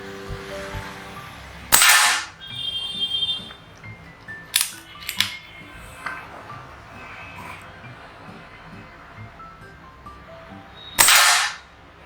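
Two sharp, loud cracks from an air rifle firing after its barrel has been cleaned and polished, spaced about nine seconds apart, with faint clicks and handling noise in between.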